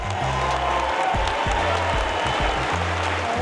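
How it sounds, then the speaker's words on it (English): Audience applause honoring USA Rugby at a high school alumni event, a dense steady wash of clapping lasting throughout, with a low rhythmic thumping underneath. "big round of applause for USA Rugby."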